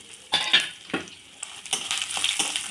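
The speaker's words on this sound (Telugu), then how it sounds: "ఆయిల్ వేడెక్కాక పల్లీలు వేసుకోవాలి మీడియం ఫ్లేమ్లో పెట్టి వేయించుకోవాలండి" Peanuts and dried red chillies fry in hot oil in a kadai over medium flame, a crackling sizzle broken by several sharp stirring scrapes, close and fairly loud.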